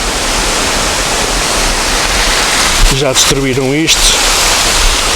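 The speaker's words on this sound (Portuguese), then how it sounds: "Está aqui a cascata da sogra." A small waterfall, the Cascata da Sogra on a boardwalk trail, pours as a loud, steady broadband roar. Someone speaks briefly over the continuous rush partway through.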